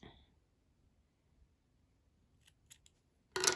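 Scissors snipping a crochet yarn tail on a doll halter top, a few faint quick snips followed by a louder close cut at the end, in near silence.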